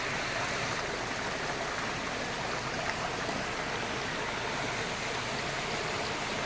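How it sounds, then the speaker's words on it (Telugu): Water from Rampa waterfall rushes along a nearby stream in a steady, dense hiss that stays even and unbroken, close and fairly loud, with no other sounds or voices cutting through. "ఇది రంప వాటర్ ఫాల్ నుంచి వచ్చే వాటర్"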